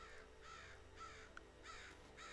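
A bird calls in the Chained Echoes video game, a series of hoarse crow-like caws repeating at a steady pace over a low background hum.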